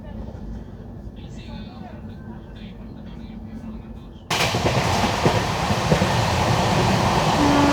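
An LHB Garib Rath Express train runs along the line as heard from inside a 3AC economy coach, a steady rumble and clatter that abruptly grows louder and fuller partway through.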